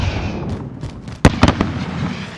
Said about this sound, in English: Sergeant, fire a flare from the launcher on the roof.